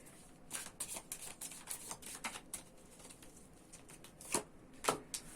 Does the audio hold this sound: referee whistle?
no